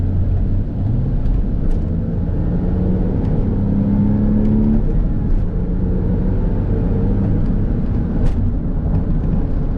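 A Porsche 996 911 engine drones continuously while driving, its pitch climbing gently as the revs build. It stays close and steady throughout, with no talking.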